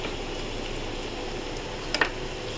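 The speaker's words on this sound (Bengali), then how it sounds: "আমি পেঁয়াজটা নেড়ে দিই" Onions fry in a pan for a mustard-paste katla fish curry, giving off a low, soft sizzle, with a couple of brief stirring clicks near the end and no voices.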